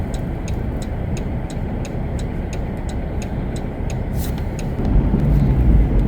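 A car drives along Menominee Parkway through Miller Valley, giving a steady broadband road and engine rumble with faint periodic ticking, swelling slightly louder near the end.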